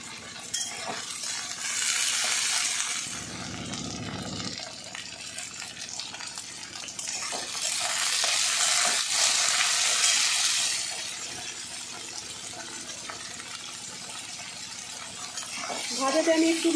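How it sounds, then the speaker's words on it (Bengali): Ivy gourd (kundri) fries in a pan of oil with a hissing sizzle that swells and eases over a long stretch. Occasional stirring and utensil sounds come through, and a clink sounds near the end. "এখানে ভাজাটা দেখো আমি বসিয়ে দিয়েছি।"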